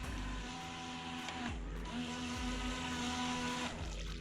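The small electric motor of a Funtech Water Rocket 3 RC boat whirs at low throttle with a steady high whine, shifting pitch slightly as it runs close by.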